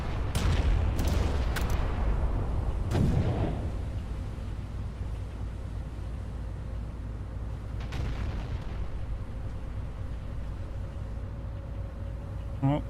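Battleship secondary guns firing in the video game Battleship Command: a cluster of sharp, loud cannon reports in the first few seconds, then a lone later shot, over a steady low rumble with someone talking.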